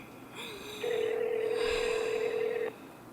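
A single steady electronic telephone tone rings out for about two seconds, then cuts off, heard over faint background hiss.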